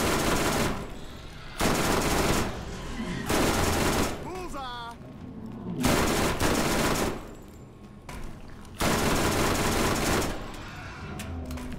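Bursts of gunfire from a scoped weapon in Borderlands on PS4, several loud sustained volleys broken by short pauses, with a few faint shots and whistling tones between them.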